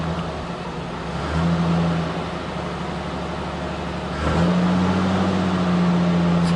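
A cold, damp 1949 Dodge car engine is cranked into life, then idles roughly with a low rumble and is revved twice, each rev rising to a steady, louder hum.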